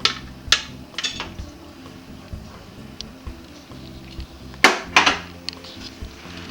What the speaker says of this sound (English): So now you mix everything up.